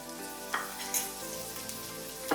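Chopped tomatoes fry in a pan for paneer bhurji, giving a steady close sizzle with a few brief stirring knocks and scrapes spread across the clip.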